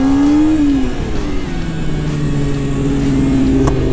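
Harley-Davidson Sportster motorcycle engine revving loudly and close, with a rising rev that drops, then steady throttle and another climb, practicing circle wheelies.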